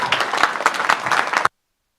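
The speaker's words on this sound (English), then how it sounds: "Let's give her a round of applause" An audience at the Ontario Bat Network annual general meeting claps for about a second and a half. The claps are distinct and moderately loud, then stop abruptly into silence.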